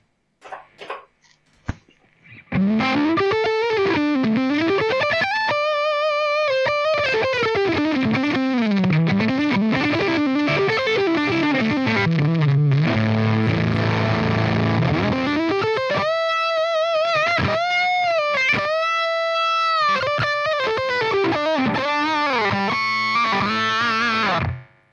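Electric guitar, a Theron made in Bolivia, played through a fuzz effect, with thick distorted sustained notes, bends and slides in a continuous solo phrase, close and loud with no talking.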